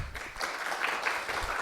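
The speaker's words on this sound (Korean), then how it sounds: "두 분께 큰 박수 부탁드립니다" Applause greets two speakers walking onto a lecture stage, with brief, moderately loud clapping from a seated audience.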